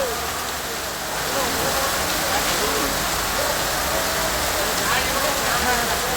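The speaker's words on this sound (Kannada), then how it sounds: "ಮೋಡ ಕರಗುತ್ತ ಮತ್ತೆ ಮಳೆಯಾಗಿದೆ" Steady, heavy rain pours outdoors at the Dharwad Krishi Mela agricultural fair, a dense, even hiss that fills the whole stretch with no pauses.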